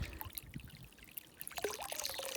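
Water heated for garden watering pouring and trickling in a steady low stream with gurgling splashes that grow slightly livelier toward the end, faint and without talk.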